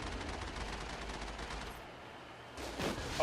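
Gunfire from the Mako tank's cannon and enemy geth armatures sounds in a Mass Effect battle on the surface of Therum, a dense crackling burst that thins out and then flares up again, with no talk over it.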